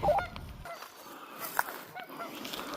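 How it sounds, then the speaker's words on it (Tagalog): Geese honk now and then at a distance over a quiet outdoor background in Edmonton, Alberta, with a few faint calls spread across the moment. "Kakatuwa yung mga ng ibon, ano?"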